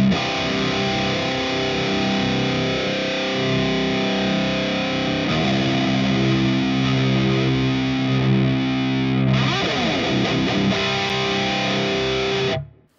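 A heavily distorted electric guitar played through a MIKKO2 cabinet impulse response with a Mega Traditional cab setting, sustaining thick, crunchy chords continuously for several seconds, loud and alone, then cutting off abruptly at the end.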